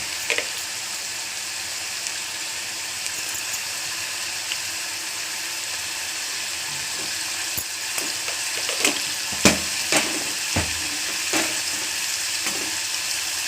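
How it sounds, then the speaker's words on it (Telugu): Sliced onions sizzle steadily in a pan for a chicken curry, a continuous hiss with a few sharper scrapes and clicks of stirring toward the end; no voices. "ఇంకా ఆనియన్స్ అయితే వేగుతున్నాయి."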